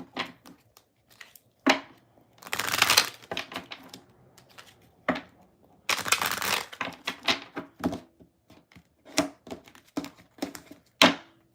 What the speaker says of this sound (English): After I shuffle all the cards.